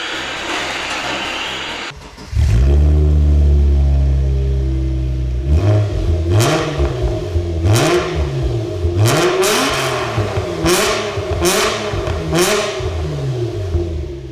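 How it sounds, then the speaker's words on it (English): A Subaru H6 engine in an Outback with a straight-pipe exhaust starts and idles loudly, then revs repeatedly in sharp rising and falling bursts, close and dominant throughout. "There's only one thing to do now, and that's start the thing up and rev the fuck out of it."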